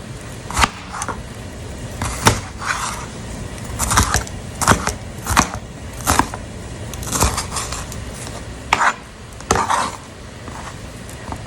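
A knife chopping cubanelle pepper on a board for kale chili: sharp, irregular knocks, a dozen or so spaced through the stretch, close and crisp with faint kitchen background.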